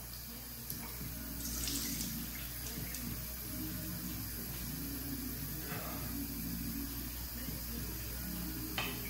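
Tap water running steadily into a sink while someone rinses their face, a constant close hiss with occasional splashes and faint handling noises.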